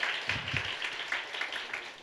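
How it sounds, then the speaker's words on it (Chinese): A church congregation claps during a Sunday service, a light scattered applause of many hands that stays fairly soft and steady for a couple of seconds. "我们再一次热烈掌声欢迎艾琳在我们当中。"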